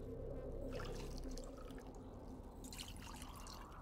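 Liquid pouring and trickling as a character drinks water in the survival game Osiris: New Dawn, a steady watery wash lasting a few seconds with no talk.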